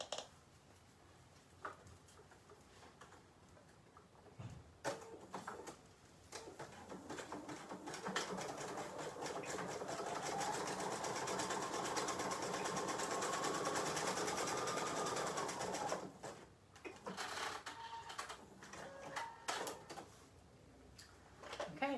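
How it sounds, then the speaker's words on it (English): A sewing machine runs a 3-step zigzag stitch over elastic on pajama pant fabric, starting with short bursts and then a steady, close whirring run of about eight seconds before stopping, with no talking. "I'm going to go in and use a zigzag stitch, and I prefer the 3-step zigzag to secure the elastic."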